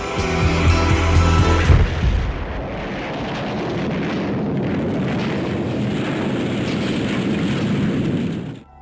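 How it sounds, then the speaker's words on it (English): A loud booming explosion in the horror film Phantasm rumbles heavily at first, then gives way to a sustained roar of crackling, falling debris and noise. "what would a movie be without an unnecessary explosion?"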